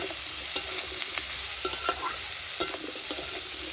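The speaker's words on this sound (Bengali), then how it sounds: "নুন আর হলুদটা দিয়ে ভালো করে আমি ভালো করে মিশিয়ে নেব" Potatoes and eggplant sizzle in a pan as they are stirred with salt and turmeric; a spatula scrapes and taps at an uneven rhythm over constant frying hiss, up close.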